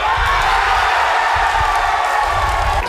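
Football crowd at a match cheering after a goal, a loud continuous roar of many voices filling the stadium without a break.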